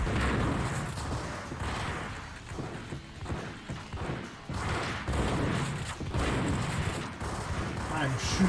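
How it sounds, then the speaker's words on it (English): Gunfire in the video game Max Payne rakes a wall: dense, continuous shots and impacts with crashing debris, loud and sustained, with a voice talking over it. "I'm shooting the heck out of this wall"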